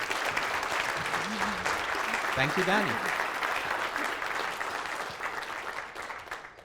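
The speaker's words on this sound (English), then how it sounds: "I think you deserve an applause for this." Conference audience breaks into sustained applause after a talk on learning ecosystems, a dense wash of clapping under which a nearby voice briefly speaks a short thanks.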